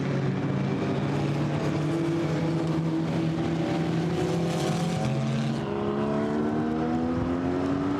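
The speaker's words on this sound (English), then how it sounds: "Down the pit lane goes the BMW." A BMW GT4 race car driving down the pit lane at a GT4 European Series race in Budapest, a loud, continuous engine drone with gliding harmonics that climb steadily as it accelerates, with no talk over it.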